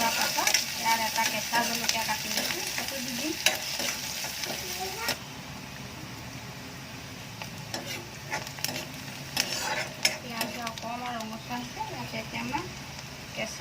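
Chopped medium onion frying in a pan after cumin seeds crackle, with steady sizzling and repeated scraping stirs up close while someone talks over the cooking.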